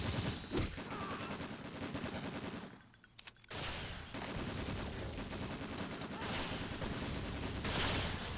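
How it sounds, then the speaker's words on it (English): Missile launcher fire in the Xbox game Breakdown: a dense, sustained barrage of loud blasts and rapid gunfire that briefly drops out near the middle and then resumes just as heavily. "Maybe I use my own missile launcher."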